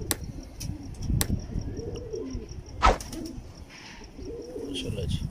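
Teddy pigeons give soft, low repeated coos in a loose rhythm, close by and fairly quiet, with a few sharp clicks and a brief loud knock in the middle.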